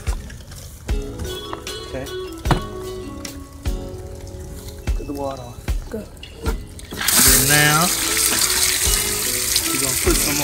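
Water runs from a hose or tap over a batch of Louisiana crawfish being rinsed clean, splashing and pattering close by with intermittent clatter, growing louder and steadier toward the end.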